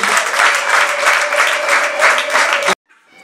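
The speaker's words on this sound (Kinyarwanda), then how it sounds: "Amashyi menshi." Loud, full applause from the guests at a church wedding ceremony, a thick steady wash of many hands clapping that stops abruptly into near silence.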